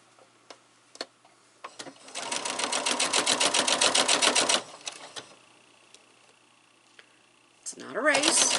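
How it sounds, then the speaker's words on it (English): Sewing machine stitching fabric strips for a stained glass string quilt, a close, rapid mechanical chatter lasting a couple of seconds amid scattered clicks and handling noise, then restarting at the end. "And I'm just going to start sewing."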